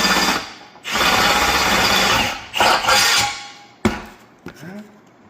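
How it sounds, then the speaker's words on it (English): A power drill boring holes for O2 sensors in a custom 3-inch exhaust pipe with an X-pipe on a 1971 Ford F-100, a loud close whine running in long bursts, then stopping with a couple of sharp knocks afterward. "let's go ahead and drill those bad boys"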